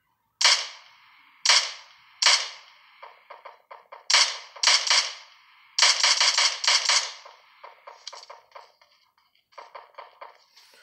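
Gunfire in PUBG Mobile: sharp, loud bursts of shots, some single cracks and some rapid strings of several rounds, echoing briefly in irregular clusters with no voices.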